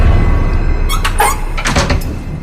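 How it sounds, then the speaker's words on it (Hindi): A house door creaks open in a horror story, a loud squeaking groan in two or three drawn-out strains over a low rumbling background, with no talking. "घर का दरवाजा खोल"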